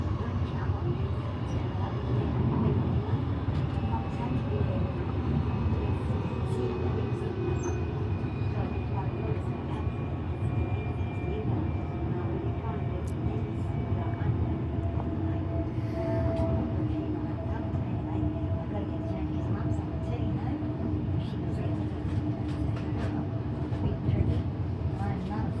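A Queensland Rail suburban train runs on the Sunshine Coast line between Roma Street and Caboolture, a steady low rumble and rolling clatter heard from inside the carriage, with faint tonal whine and brief talk over it.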